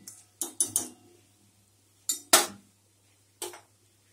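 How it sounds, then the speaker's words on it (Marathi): A spoon scrapes and clinks against a pan while red chili powder and turmeric are stirred into onion and oil for a Malvani-style tawa jawla dish, in short separate clatters with quiet gaps between them. "थोडा वेळ आपण या कांद्यामध्ये आणि तेलामध्ये लाल तिखट आणि हळद व्यवस्थित परतवून घेणार आहोत"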